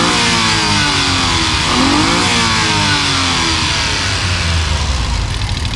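Engine of a Suzuki DA17V mini van revving steadily nearby, a continuous loud motor drone with rising and falling pitch sweeps as the throttle is worked, no talk over it.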